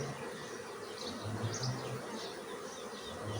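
Honeybees buzzing over capped brood frames in an opened hive, a steady, faint, continuous drone with no break.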